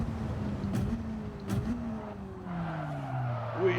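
A Bac Mono race car in Gran Turismo 7 brakes hard into a corner at Tokyo Expressway. The engine note drops steadily while the tires chirp and squeal, with a couple of sharp clicks along the way.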